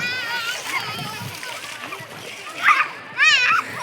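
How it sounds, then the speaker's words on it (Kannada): Children splash and play in river water at the Sahasralinga riverbed, with nearby sloshing and splatters and their voices calling out over the water. "ನೀರಲ್ಲೆಲ್ಲ ಆಡ್ತಾ ಇದ್ದಾರೆ ಮಕ್ಕಳು."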